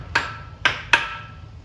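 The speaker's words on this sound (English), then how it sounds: "I like to take the hammer, hit right on the bolt several times" A hammer strikes a rust-seized bolt on an old motor three times, each a sharp, loud metallic whack with a brief ring, spaced unevenly over a quiet background.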